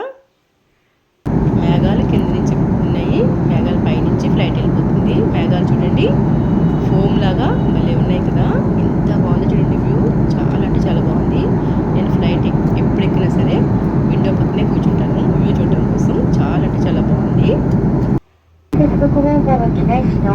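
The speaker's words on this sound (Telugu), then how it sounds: "ఫ్లైట్ స్టార్ట్ అయింది ఇంకా పైకి వెళ్తుందన్నమాట" A passenger airplane departing Japan on a rainy day takes off with a loud, sustained engine roar that holds steady for about twenty seconds, briefly dropping out near the end, with voices faintly audible beneath.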